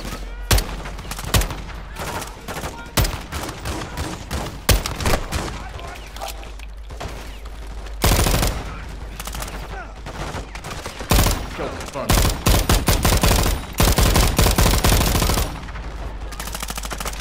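Rapid machine gun bursts and scattered gunshots from a Modern Warfare II campaign battle, loud and near, firing in repeated volleys with short lulls across the whole stretch.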